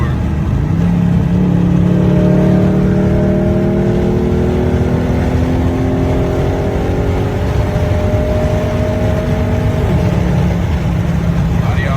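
Dodge Charger or Challenger engine revving steadily, a loud, close rumbling drone with rising and falling pitch sweeps over roughly ten seconds before settling back toward idle.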